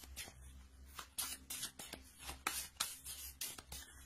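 Tarot cards from a wellness deck rustle and slide as one is drawn, soft papery strokes and flicks repeating close by at a low level.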